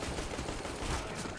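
Gunfire in a video game, a dense continuous run of rapid shots that keeps going without a pause, loud and close.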